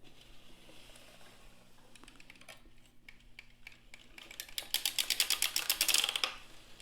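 A sock knitting machine is cranked around after needles are lifted and pushed down, giving a quiet close run of rapid mechanical clicks and ticks that build into a dense rattling burst toward the end, with no talking.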